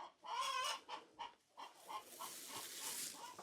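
Hens on a Korean farm cluck in short bursts close by, a rising and falling series of calls over a quiet background.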